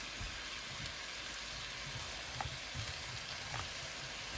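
Frozen pot stickers fry in a pan with a soft, steady sizzle, fairly quiet and continuous, with a couple of faint pops near the middle and toward the end.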